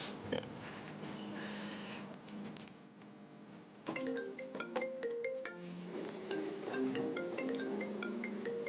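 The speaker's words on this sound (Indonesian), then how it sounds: "Gue angkat telepon dulu ya." A melodic phone ringtone plays in an Indonesian TV drama scene, starting faint and then growing into a clearer repeating tune of bright tones, with no voices over it.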